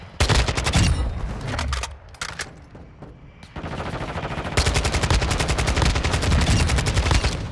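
Rapid automatic gunfire from a Kastov 545 rifle in Call of Duty Modern Warfare 2 sounds in loud, sustained bursts with a brief lull, then a long steady stream of close shots.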